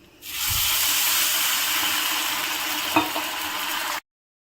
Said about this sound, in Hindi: गुड़ धीरे धीरे से गलने लगा है और चाशनी भी बनके तैयार हो रही है।